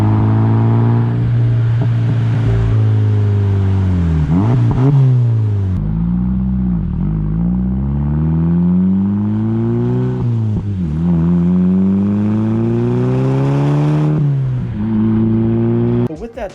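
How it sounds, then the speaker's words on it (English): A Volkswagen MKV GTI with an ECS 3-inch catback exhaust is revved up and down several times, close and loud, the exhaust note rising and falling in repeated sweeps before settling back to idle. "their 3-inch catback or turbo back exhaust, and it sounds a little bit like this"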